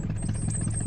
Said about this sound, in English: Alf was out on his tractor